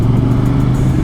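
A CF Moto 450CL-C motorcycle idles and revs through its muffler with a steady, loud, low exhaust rumble held close throughout, with no pauses and no voices over it.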